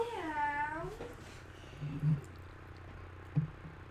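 A pet cat meows once, a clear rising-falling cry close to the microphone, followed by a few soft low bumps and quiet room noise.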